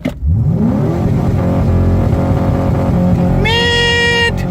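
An old Ford truck with a 2-valve engine cranks and fires up, then settles into a loud rough running rumble before revving sharply upward near the end.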